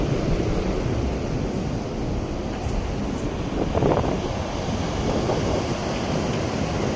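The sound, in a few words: waves and wind at NITK beach, Mangalore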